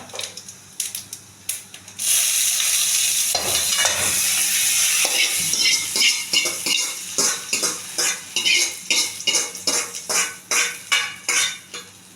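Cumin seeds frying in lightly heated ghee give a steady, close sizzle, while a utensil scrapes and taps against the pan in a quickening rhythm of repeated strokes.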